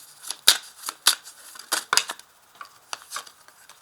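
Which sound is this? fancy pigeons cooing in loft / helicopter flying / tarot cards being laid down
tarot cards being laid down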